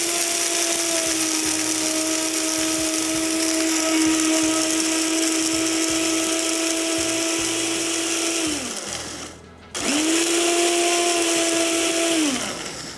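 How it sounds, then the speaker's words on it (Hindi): An electric spice grinder whirs as it finely grinds poppy seeds and spices, a loud high-pitched steady whine that winds down, pauses briefly, then spins up again before stopping. "इसको बिल्कुल बारीक पीस लेंगे।"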